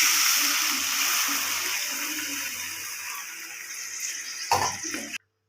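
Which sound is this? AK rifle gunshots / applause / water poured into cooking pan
water poured into cooking pan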